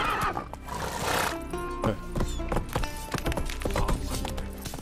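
A horse whinnies in The Witcher 3: Wild Hunt video game, a loud, close neigh followed by snorts and hoof clops against a busy game backdrop.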